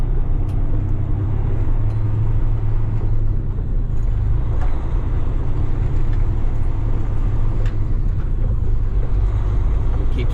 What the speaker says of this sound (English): It keeps shifting up.